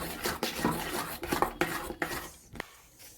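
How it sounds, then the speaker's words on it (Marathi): A kadhai is set on a gas stove while making medu vada, giving a handful of sharp metallic knocks and clatters close by, then quiet. "मी आता गॅसवर कढई ठेवून घेणार आहे"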